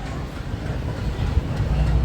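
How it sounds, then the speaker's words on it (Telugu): A long passenger train with a large engine and many sleeper coaches rolls through Secunderabad station, a low, close rumble that grows steadily heavier, with no talk. "ట్రైన్ అయితే పోతూనే ఉంది."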